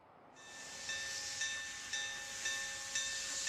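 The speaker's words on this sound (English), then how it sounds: "this steam locomotive was rolled out for a February centennial round trip to the south" A steam locomotive on the Williams to Grand Canyon railway lets out a loud, steady hiss of steam that swells with soft rhythmic pulses about every half second, close and continuous with no voices.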